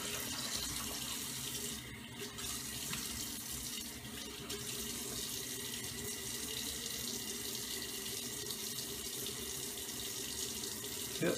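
A bathroom tap runs steadily for rinsing after a shavette shave, a close, continuous hiss of flowing water into a sink with no talk.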